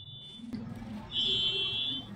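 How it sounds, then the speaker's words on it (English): A car alarm, set off by a passing loud motorcycle, sounds faintly from outside as a high electronic tone: a brief chirp at first, then a steadier beep lasting under a second over low background noise. "proceeded to set off my mom's car alarm because it was too loud"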